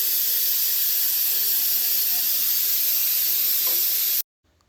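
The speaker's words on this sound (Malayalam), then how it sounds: "ഇനി ഒരു വിസിൽ വരുന്നത് വരെ വെയിറ്റ് ചെയ്യാം" Steam hisses loudly and steadily from a pressure cooker cooking chicken kabsa with ration rice, a constant, close rushing sound that holds for about four seconds and then cuts off abruptly.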